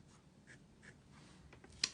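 A Pelikan M120 fountain pen with a slightly architect-style nib writing on paper: soft, faint scratchy strokes in short bursts, quiet and close.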